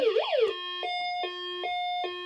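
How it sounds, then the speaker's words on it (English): A 1990 Servco toy fire truck's electronic siren wails up and down briefly, then switches to a two-tone alternating beep, thin and tinny, with no talking. "And that's siren two."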